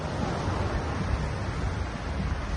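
Strong sea waves wash continuously on an island beach, a dense close roar of surf mixed with wind buffeting the microphone, with no voices.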